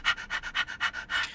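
A dog pants close by in six quick, even, breathy puffs, each a short airy rasp with a regular rhythm and nothing else heard.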